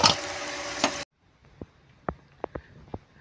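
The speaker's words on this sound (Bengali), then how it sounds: "তেলে আমি উল্টে পাল্টে এগুলো সবগুলোই ভেজে নেবো।" Flour and potato snacks frying in hot oil, a brief burst of bright sizzling that stops suddenly, followed by a few sharp, close utensil clicks and taps against the pan.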